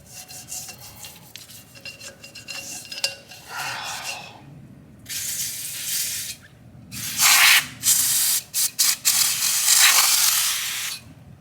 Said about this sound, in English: let's go back to the spray can